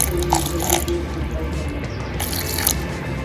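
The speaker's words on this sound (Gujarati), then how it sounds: "મેં એક ગ્લાસ જેટલું પાણી લીધેલું છે તે એડ કરીશું" Roughly a glass of water pours into a mixer jar holding raw mango for a summer sherbet, a steady close splashing and trickling that runs briefly with no talk.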